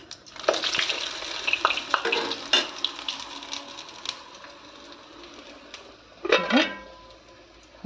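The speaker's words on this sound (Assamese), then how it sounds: "ৰুটিখিনি ভাজি লওঁ ধুনীয়াকৈ" Roti frying in a hot pan, with light crackle and scraping or stirring noises from handling the pan, plus a brief louder clatter near the end.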